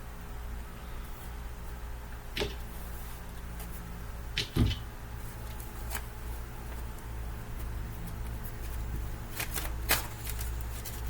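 A deck of tarot cards is shuffled close by, with soft riffling and scattered sharp card snaps and taps spread over several seconds.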